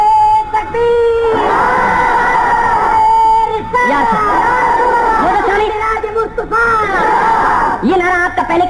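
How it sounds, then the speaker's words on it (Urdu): A large crowd at a religious gathering chanting the slogan Naara-e-Takbeer, loud massed voices rising in sustained shouted waves, answered between bursts by a single amplified voice over the chant. "یہ نعرہ آپ کا پہلے کی نسبت سے کچھ حوصلہ افزا تو تھا مگر اس میں بھی بہت کمی تھی"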